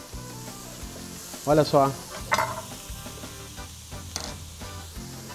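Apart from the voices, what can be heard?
onion sizzling while browning in a pan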